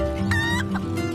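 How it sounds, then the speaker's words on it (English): A chicken squawks and clucks in one short, close burst with no talking, as in a barnyard story about farm animals riding a tractor. ""Squawk," said Chicken."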